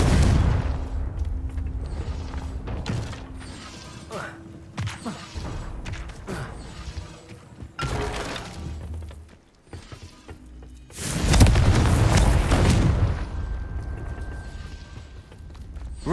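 Confringo fire spell blasts in Hogwarts Legacy combat, mixed with mechanical creaks and clanks, with a loud booming burst of explosion noise partway through, amid other game effects.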